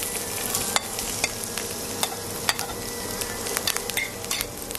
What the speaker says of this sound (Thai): แล้วเราก็ผัด